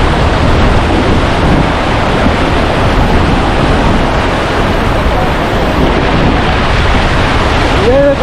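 Strong wind and rushing water on a flooded road in Kolkata during a cyclone, a loud steady roar filling the whole stretch with no break.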